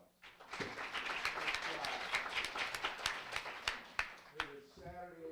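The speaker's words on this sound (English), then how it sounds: "Give yourselves a round of applause." A modest audience at a Saturday afternoon professional career session claps for themselves, with individual sharp claps standing out over a soft wash of hands, fairly quiet overall, and a voice starts talking at the very end.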